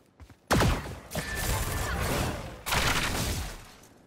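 Neon's ultimate firing in Valorant: a sudden loud energized blast at about half a second gives way to a sustained crackling, zapping burst, then a second strong surge of firing near the end, with no one talking.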